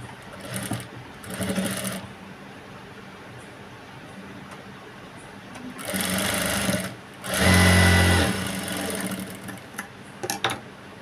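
An electric sewing machine stitches two layers of fabric for a blouse's shaped belt. Its needle runs in bursts of rapid rattling whir separated by quieter pauses, loud and close.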